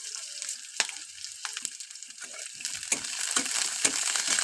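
Chopped onion and green chili frying in hot oil, a soft crackling sizzle broken by a few louder pops and stirring scrapes, close and steady with no talking.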